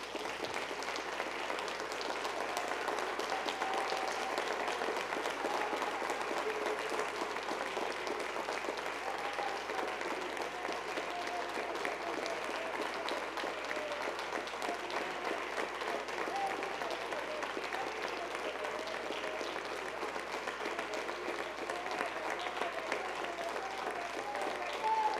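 A church congregation claps steadily and loudly for the whole stretch, a dense unbroken wash of applause from a large crowd indoors.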